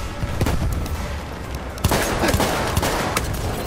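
A rapid series of gunshots crackles in Battlefield 1, loud and close. The shots come in a burst of sharp cracks with a heavier blast partway through.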